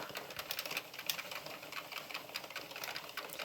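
An Addi Pro knitting machine being cranked, giving a rapid, regular mechanical clatter of needles and carriage that stays close and fairly soft, with no voices.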